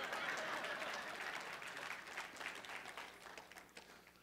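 Audience applause, dense and steady at first, then gradually thinning and fading over a few seconds.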